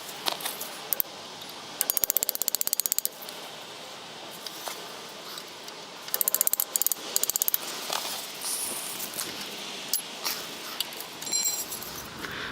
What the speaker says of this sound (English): I use my new punch set. and punch out these location pins here